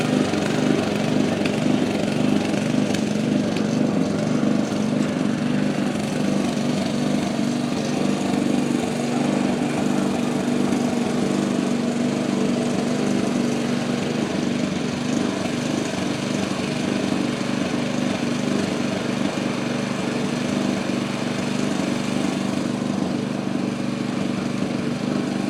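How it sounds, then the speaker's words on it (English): A small engine-driven tiller churns garden ground for potatoes on a sunny day, its motor droning loud and steady with a constant low hum and no pauses throughout. "tilling down through there where he plants his potatoes"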